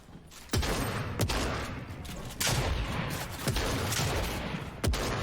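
Gunfire from the Fortnite video game at a Monaco esports final: several sharp, loud shots at uneven intervals over a steady, noisy game-audio bed, with no talk.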